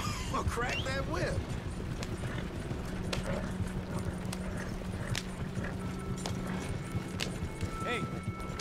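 Horse hooves clip-clop steadily in Red Dead Redemption 2 as a rider travels, a continuous rhythmic trot under ambient outdoor game sounds, with someone talking over it.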